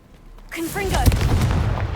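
Confringo fire-blast spell cast in Hogwarts Legacy: a whooshing rise into a sharp explosive burst, followed by crackling blast noise, with speech nearby.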